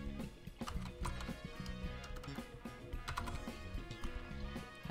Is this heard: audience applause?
no